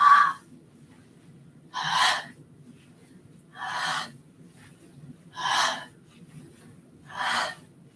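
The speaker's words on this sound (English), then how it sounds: "exhale through your mouth" Five slow, forceful exhalations through the mouth during a springtime qigong breathing exercise, close and breathy, evenly spaced about every two seconds with quiet pauses between and no talking.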